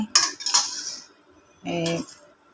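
Katla fish and mung lentils stirred in a pan with a utensil, giving a few short scraping clinks and then a brief clattering burst, with quiet gaps in between.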